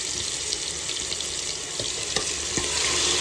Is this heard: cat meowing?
no